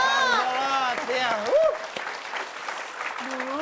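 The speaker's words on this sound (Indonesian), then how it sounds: "Kita kasih tepuk tangan buat Pak Jajan, Bang Mali dan Bang Lolot" A studio audience at an Indonesian comedy show claps steadily and loudly throughout, with someone talking over the applause.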